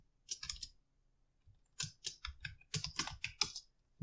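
Typing on a computer keyboard during a technical walkthrough: close, crisp bursts of rapid key clicks separated by a short pause, with no talking.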